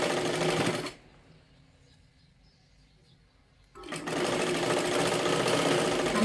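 A sewing machine stitches the hem of a princess blouse in two loud, steady bursts, one short at the start and a longer one at the end, with a near-silent pause between them.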